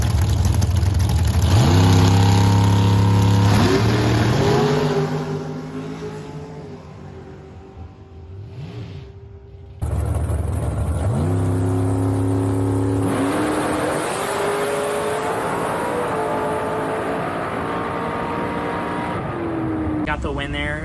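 A Super Pro drag race car launches hard down the strip, its engine roaring at high revs through rapid gear changes, fading into the distance, then another loud run of revving power follows, with some talk over the noise.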